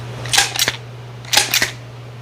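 A Lawson Loader screwdriver mechanism working in two quick bursts, each a pair of crisp mechanical clacks close by, over a low steady hum.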